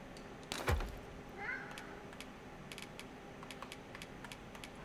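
A cat in the Dragon's Dogma 2 video game gives a short meow, heard once near the start at moderate level over a soft steady background with faint clicks and clatter scattered throughout.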